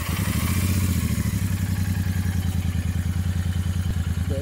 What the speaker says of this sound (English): the exhaust is a throaty exhaust